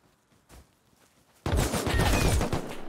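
A burst of rapid AK rifle gunfire in a survival shooter game, loud and close, erupting suddenly after a quiet stretch and rattling continuously to the end.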